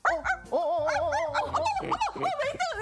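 A small pet dog barking and yipping in an excited, nearly continuous string of high, wavering cries, close and fairly loud.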